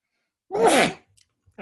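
A single sharp human sneeze indoors during a lecture, loud and close, followed by faint small noises.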